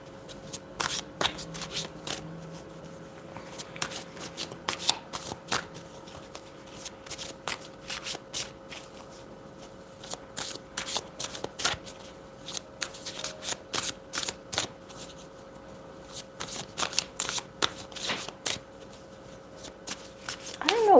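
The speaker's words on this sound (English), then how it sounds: "I'm going to be pulling cards for these two." Playing cards shuffled for a card reading, repeated crisp riffling bursts at a steady pace over about twenty seconds, close and fairly quiet, with a faint steady tone underneath.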